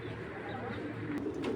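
Faint, low cooing from caged pigeons being sold, a soft murmured call over a steady background hum, with a few brief clicks near the end and no talking.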